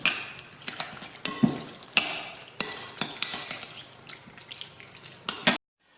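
Chicken is stirred into a chow mein marinade with Shaoxing wine, giving close, wet scraping and clacking strokes in an irregular rhythm that stop abruptly.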